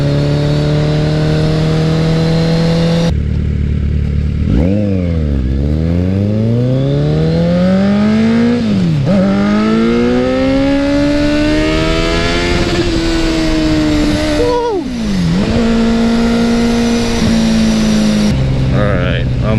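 A Kawasaki Z900 motorcycle revs hard while being ridden, its engine note climbing through repeated gear changes in loud, close sweeps with short dips between shifts.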